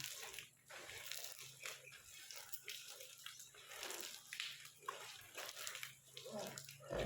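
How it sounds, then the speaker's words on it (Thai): An elephant bathed and scrubbed with water at midday: steady sloshing, splashing and rough scrubbing go on throughout, faint and somewhat distant, with voices heard faintly underneath. "อาบน้ำคลายร้อนนะคะ"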